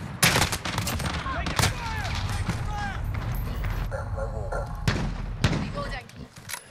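Rapid FAMAS assault rifle bursts in Call of Duty Modern Warfare, loud and close, repeated volleys of gunfire with distant shots and explosions mixed in, over a busy game soundscape.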